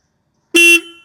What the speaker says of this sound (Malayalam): നമുക്കൊന്ന് ഹോൺ ഒന്ന് കേൾക്കാം.